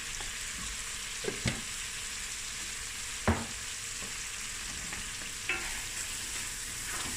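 Masala spice mix sizzling in a pan while cooking for a creamy mussel curry, a steady close hiss with a few sharp pops and spoon taps, no voices.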